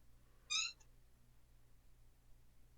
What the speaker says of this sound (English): my cat. I heard the meow.